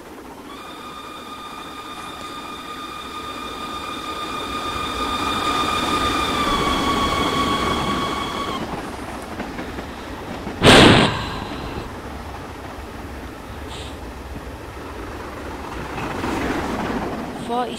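A rebuilt Light Pacific steam locomotive in Train Simulator 2015 runs on, its whistle sounding a long steady multi-tone note, then a sharp burst of steam exhaust, all over a continuous rumble of the train rolling, with a voice talking intermittently.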